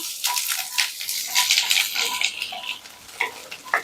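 Garlic and dried red chillies frying in hot oil for a radish chutney, giving a close, steady crackling sizzle with scattered sharp pops throughout and no talking.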